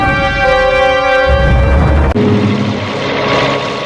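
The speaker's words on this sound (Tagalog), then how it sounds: "Ang helikopter." A helicopter flies in a zombie action video game, its engine and rotor giving a loud, steady droning hum with layered tones that shifts slightly partway through, with no talking.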